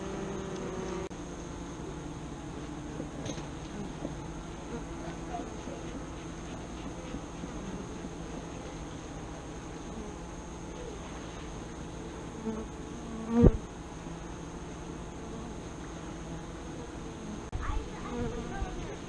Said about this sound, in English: These two bees would have stung me on my hands.